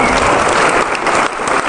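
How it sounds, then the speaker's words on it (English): Audience clapping for a man called out of the crowd at a DEFCON 18 security conference talk, a dense, loud wash of applause filling the short moment without any speech over it. "Maybe everyone want to give him a clap."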